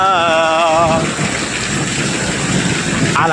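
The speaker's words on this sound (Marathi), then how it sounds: "पाऊस आला पाऊस आला" Sudden downpour arriving in a thunderstorm, a dense steady hiss of heavy rain with rumbling undertones; a tonal whine fades out in the first second as the rain takes over, loud and close throughout.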